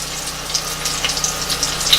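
Panko-breaded wild turkey fries in a pan, giving a steady close sizzle with small crackling pops and no talk.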